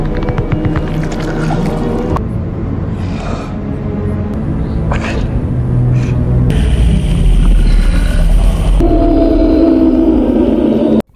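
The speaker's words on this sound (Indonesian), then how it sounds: "Blake melolong keras ke langit malam." A werewolf's long, loud howl in a night scene from the 2025 Wolf Man film, rising over a deep rumbling orchestral score that swells and shifts throughout.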